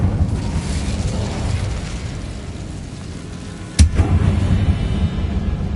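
An Incendio fire spell from the video game Hogwarts Legacy goes off as a single sharp, loud blast partway through, over a low rumbling game background with no talking.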